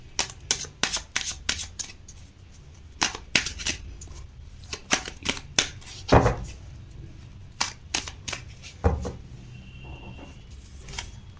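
Tarot cards shuffled and handled by hand: a run of sharp, crisp riffling snaps and flicks in irregular bursts, close and fairly loud, with quieter pauses between and no talking.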